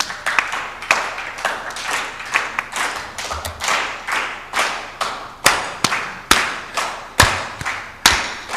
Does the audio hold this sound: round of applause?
yes